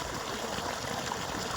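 Water runs continuously as it fills, a steady soft rushing trickle with no pauses and no talking.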